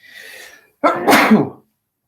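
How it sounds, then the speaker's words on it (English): One person's sneeze: a soft indrawn breath, a brief pause, then a sharp, loud explosive burst close to the mic that trails off quickly. "I'm going to sneeze."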